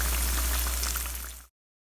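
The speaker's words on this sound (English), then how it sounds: "then you flip it and then fry it on the other side until it is golden brown" Dhal bhajia fritters frying in hot oil give a steady, close sizzle with fine crackling that holds evenly for about a second and a half, then cuts off abruptly.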